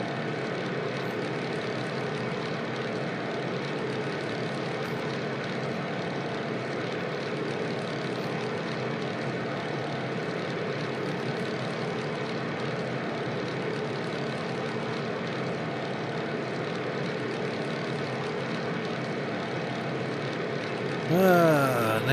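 Propeller airplane droning steadily in Microsoft Flight Simulator over southern Pacific islands, a continuous even engine hum that holds for the whole stretch, with a brief louder blip at the very end.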